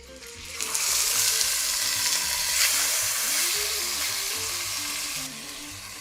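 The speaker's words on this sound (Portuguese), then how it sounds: "Enquanto a sua carne vai fritando" Meat hits a hot pan with a sudden loud sizzle that keeps hissing steadily up close, with faint clinks of utensils underneath.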